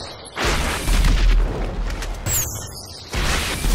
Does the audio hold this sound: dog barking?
no